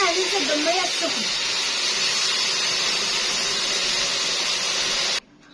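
Hot water hits a pan of browned rice cooked with paprika, bursting into a loud, steady hiss of steam that holds for several seconds and then cuts off abruptly.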